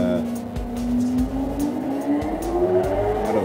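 An F1 race car engine in the F1 2013 video game on a fast lap of Shanghai, a loud whining tone climbing steadily in pitch as it accelerates, with a low rumble underneath.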